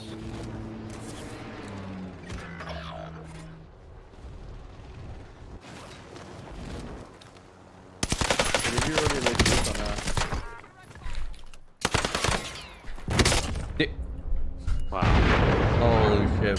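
Gunfire and explosions in a helicopter-and-infantry shooter game, bursts of loud shots and heavy blasts in stretches from eight seconds on, with a quieter rumbling passage before and faint talk at times.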